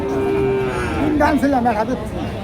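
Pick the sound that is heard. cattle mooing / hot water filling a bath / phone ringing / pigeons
cattle mooing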